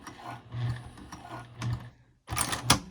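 Sewing machine back stitching across a wristlet clutch, with short mechanical runs broken by pauses and a louder burst of stitching near the end, close and alone.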